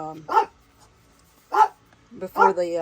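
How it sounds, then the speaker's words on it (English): A pet dog named by its owner barks a few separate times, moderately close, with short sharp bursts spaced over a couple of seconds. "Brody, why are you barking, bud? Sorry about my dog"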